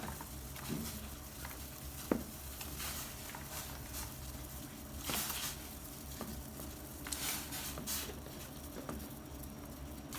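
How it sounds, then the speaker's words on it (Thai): Water boils with bitter gourd in a pot while it is being seasoned, giving a steady close bubbling patter and sizzle with a few sharp clicks and small knocks throughout. "น้ำเดือดแล้วนะคะ"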